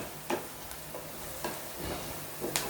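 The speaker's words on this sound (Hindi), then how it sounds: "देखिए दोस्तों, प्याज तले गए।" Onions fry in a pan with a soft, steady sizzle, and a utensil scrapes and stirs through them in several quiet, repeated strokes.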